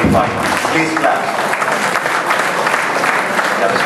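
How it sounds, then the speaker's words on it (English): An audience applauding at a formal welcome event, dense and loud clapping from many hands that stays steady for a few seconds, close and filling the room. "Please clap."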